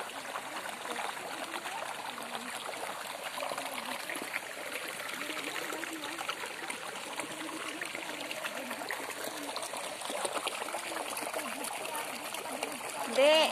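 Clean, drinkable spring water runs in a stream out in the countryside, giving a constant splashing, trickling rush at close range that holds steady throughout.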